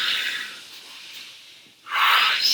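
During an arm-strengthening exercise, breath is pushed out in two close airy exhalations, the first tapering off slowly and the second starting sharper and louder after a brief pause, with no voices.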